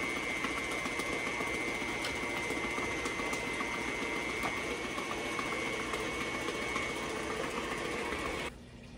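An electric mixer runs steadily, beating sugar, eggs and butter for a rhubarb cake batter in a home kitchen, a continuous whirring hum that cuts off just before the end.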